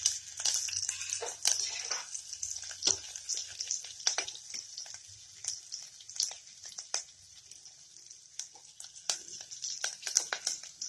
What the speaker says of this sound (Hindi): हींग डालेंगे, सौंफ डालेंगे और अदरक और मिर्ची डालेंगे।